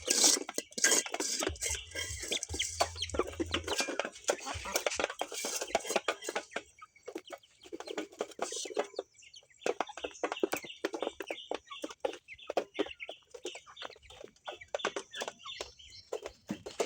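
Chickens eat feed, with soft clucks and a steady patter of quick pecking clicks against the ground or a dish, close by and fairly quiet, continuing throughout.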